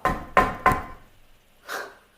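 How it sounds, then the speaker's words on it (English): Three quick knocks rap on a wooden door, followed after a pause by a fainter fourth knock, close and dry in a quiet room. "he heard the knock on the door"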